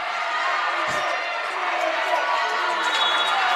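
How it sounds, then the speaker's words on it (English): Crowd noise at a women's college volleyball quarterfinal between Brooklyn College and CCNY, a steady loud roar of cheering under a commentator's voice near match point. "The crowd is getting into it."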